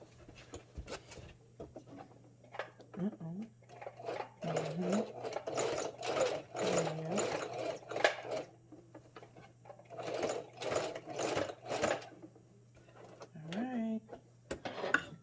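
Sewing machine back stitching fabric for a hat, fast bursts of mechanical needle chatter starting and stopping repeatedly, with short pauses and faint handling noises between runs.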